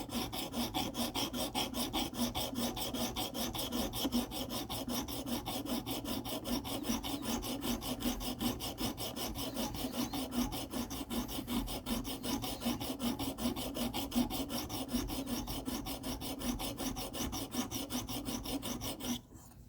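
A ZT 0562 knife with an S35VN steel blade being reprofiled on a KME sharpener, a quiet, continuous rhythmic rasping of stone strokes across the edge, steady for nearly twenty seconds before stopping abruptly.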